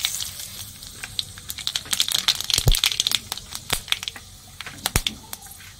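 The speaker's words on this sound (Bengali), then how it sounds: "তেল গরম হয়ে গেছে, সর্ষে আর শুকনো লঙ্কা ছেড়ে দেবো।" Mustard seeds and dry red chillies dropped into hot oil crackle and spit in sharp, irregular bursts, close and fairly loud, with no talking.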